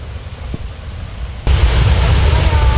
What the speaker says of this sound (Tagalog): malakas din pala ang tubig